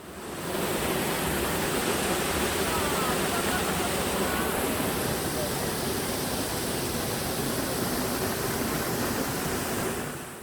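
A steady, dense rush of falling water from an artificial waterfall beside a suspension bridge in Seoul roars continuously and evenly throughout, close and loud, with no pauses.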